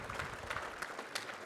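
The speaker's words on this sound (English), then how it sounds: "Round of applause." An audience at a police department quarterly award ceremony applauds with a steady patter of clapping that sounds somewhat distant and soft.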